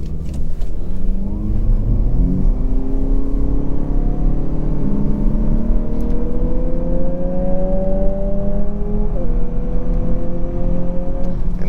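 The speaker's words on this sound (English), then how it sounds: "But let's try the quick acceleration." A 2023 Lexus UX250h AWD hybrid accelerates hard from a stop with traction control off, its engine and motor whine climbing steadily in pitch, easing briefly at a shift, then rising again, loud and close from inside the cabin.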